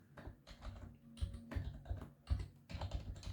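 Keys clatter on a computer keyboard as Python code is typed, a close, quiet run of irregular clicks in short bursts with brief pauses between them.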